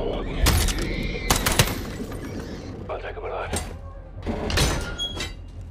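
Modern warfare video game gunfire rings out in several sharp loud bursts of shots with echoing thuds between them, mixed with background game noise and voices.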